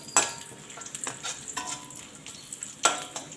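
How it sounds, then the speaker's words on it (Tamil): Cashews fry in oil in a pan for upma, with a soft, steady sizzle close by, punctuated by sharp clinks of a utensil against the pan. "முந்திரி பருப்பு கொஞ்சம் வறுத்து லைட்டாக வறுத்து எடுத்துக்கலாம்."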